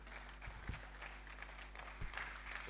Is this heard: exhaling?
no